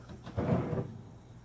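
A hotel room drawer slides open or shut in one short, muffled scrape-and-thud lasting under half a second, close by and fairly quiet against faint room noise.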